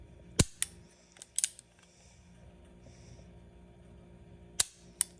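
Dry-fire clicks from a used handgun trigger held close to the microphone: a few sharp, loud snaps spaced apart, some in quick pairs, over a quiet background.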